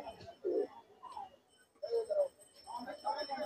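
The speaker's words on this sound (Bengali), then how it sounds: "ভাই, দুটো কালদম কবুতর আছে দেখেন," Kaldam pigeons cooing at a large pigeon market in Khulna, soft low coos in three close bursts with brief pauses between.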